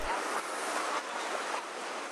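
A field-recording atmosphere layer for a lo-fi track, a soft, steady broadband hiss like distant surf or wind that stays faint and even throughout, with no voices.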